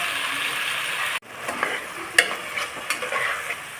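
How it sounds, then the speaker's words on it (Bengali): Banana flower and potatoes fry in a pan, giving a constant close sizzle. After a brief cut in the sound, a spatula scrapes and stirs in repeated clattering strokes, with no talking. "এগুলো মিশিয়ে ভালোভাবে ভেজে নেব একটু সময় নিয়ে ভাজবো"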